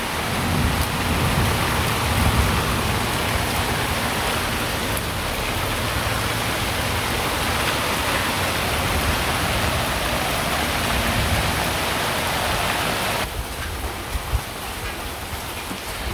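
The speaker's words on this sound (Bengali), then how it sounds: "এখন এই যে শান্তি, বৃষ্টি নামছে" Steady, loud rain pours onto a rural village homestead, a dense, continuous hiss that eases slightly near the end, with no voices over it.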